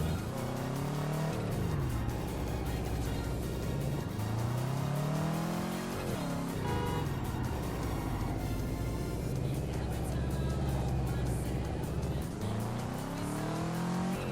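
Car engine in the VR racing game Touge Shakai revving up and down through repeated gear shifts, steady and loud, with someone talking over it at times.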